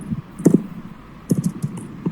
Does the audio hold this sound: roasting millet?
no